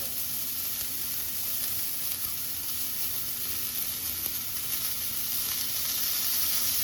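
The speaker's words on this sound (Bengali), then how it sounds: "দুই পিঠ লাল লাল করে ভেজে নিতে হবে" Adana kebabs fry in a pan with butter, giving a steady, close, even sizzle that holds at one level throughout with no pauses.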